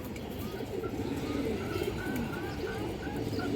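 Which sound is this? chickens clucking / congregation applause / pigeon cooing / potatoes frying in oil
pigeon cooing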